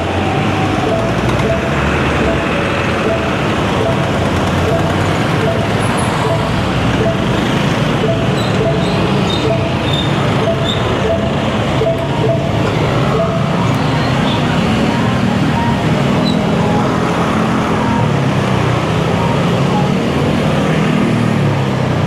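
A motorcycle rides along a road among traffic, with a loud, continuous rumble of engine and wind roar that stays steady throughout, close to the rider.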